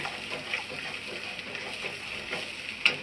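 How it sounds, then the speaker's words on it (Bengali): Tomato and green chili paste frying in a wok while being stirred, a soft continuous sizzle with faint rhythmic scraping strokes and one sharper clink near the end, with no talk. "আমি ভালো করে নেড়ে নিচ্ছি,"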